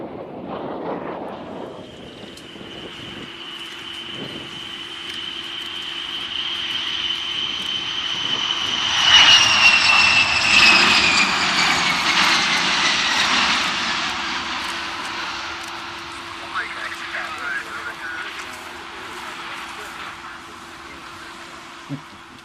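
Aircraft engines drone at Mildenhall Airfield, a sustained whine that swells as a plane passes close around the middle and then fades, with wind buffeting the microphone.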